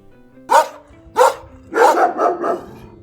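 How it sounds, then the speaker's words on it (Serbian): A dog barks close by, two sharp single barks followed by a quick run of three barks, loud and clear against silence. "A ovako pas laje."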